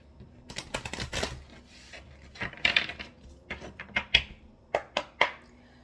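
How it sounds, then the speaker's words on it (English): A deck of tarot cards is shuffled in short, crisp bursts of riffling and snapping, a series of uneven clicks and flutters spaced over about six seconds, close and moderately quiet. "Just one more shuffle."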